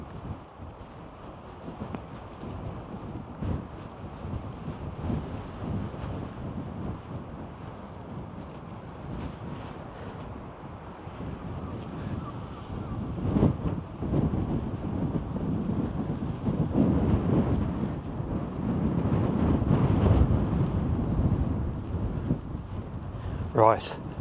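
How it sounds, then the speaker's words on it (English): Strong coastal wind buffets the microphone on the East Cliffs at Ventnor, Isle of Wight, a constant low roar that grows heavier toward the end, with a voice speaking under it. "Excuse the wind. Might be a bit noisy."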